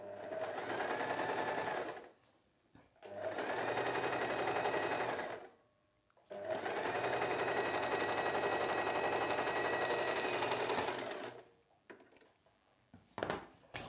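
A sewing machine stitches a blouse hem in three long, steady runs of close, rapid whirring, separated by short pauses. It is close and loud, with no talking, and a few faint handling clicks come at the end.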